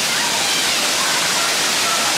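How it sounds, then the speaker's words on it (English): Steady broadband rush of a waterfall at a busy hiking spot with many visitors, loud and continuous, with faint voices in the background. "I do love the waterfall"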